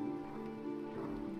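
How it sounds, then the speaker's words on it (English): Rain falling in the video game Ori and the Blind Forest, a soft continuous patter heard faintly and steadily throughout, with no talk over it. "It's raining."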